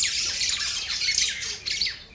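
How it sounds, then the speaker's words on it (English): Birds squawking during a fight in Kenya, a rapid series of harsh, loud, close calls in overlapping bursts with no voices. "it's a bird fight"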